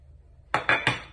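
Three quick hard clinks of metal on cookware ring out close together as carrots go into a pot, after a near-silent pause, with no talking.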